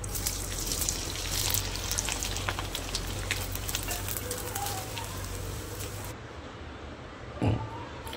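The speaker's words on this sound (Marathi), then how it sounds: "तेलामध्ये आधी टाकणार आहे कुरडई फ्राय करून घ्यायची आहे" Kurdai, a dried crisp, fries in hot oil, sending up a loud, dense sizzle close by that cuts off abruptly near the end, followed by a brief knock.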